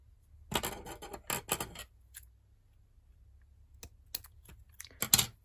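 Scissors cutting pom-pom material into pieces for a Christmas wreath: a burst of sharp snips early on, then a quiet pause, then several more crisp, close cuts near the end.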